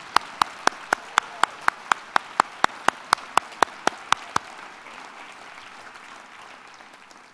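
Evenly spaced, sharp single claps ring out nearby at an awards ceremony, about a dozen and a half in steady rhythm, then stop, leaving a soft room murmur.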